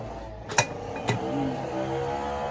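A lid set onto a cooking pot of coconut-milk vegetables with corn, making two sharp metallic clinks about half a second apart, followed by a low simmering background.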